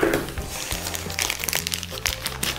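A folding knife is unwrapped from plastic foil close up, with loud crinkling and crackling of the film in quick irregular bursts across the whole moment.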